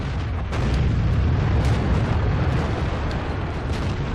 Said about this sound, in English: That was artillery trained on us.